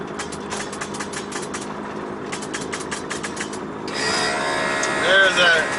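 An Airlift V2 air-suspension compressor on a VW MK4 with Raceland air suspension kicks on partway through, a loud steady whirring hum replacing the earlier rhythmic ticking and background noise.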